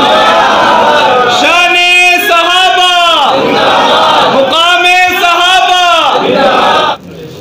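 A large crowd at a religious gathering chants slogans in unison, with loud, full voices rising in two long, drawn-out shouted phrases. The chant is dense and close throughout and drops away abruptly at the end.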